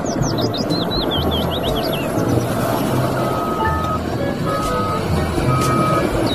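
A toy snowplow truck gives steady, evenly spaced electronic reversing beeps over a noisy background, with quick chirping toy tones early on.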